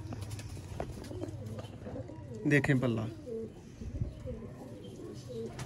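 Rare Sialkoti Master Abdullah pigeons with green-bead eyes give soft, rolling coos close by, while someone talks over them throughout.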